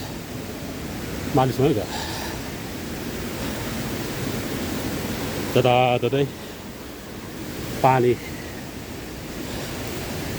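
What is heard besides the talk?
waterfall water falling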